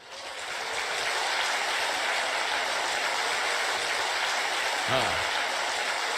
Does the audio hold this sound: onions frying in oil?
no